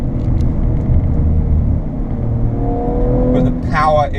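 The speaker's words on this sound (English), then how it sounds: "Use the paddle shifters, the gearbox changes gear instantly. Oh, listen to it." An Audi RS5 second-generation engine revs hard under acceleration, loud and close with a steady roaring drone, as the paddle-shifted gearbox changes gear near the end and a voice speaks over it.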